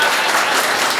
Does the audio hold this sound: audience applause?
yes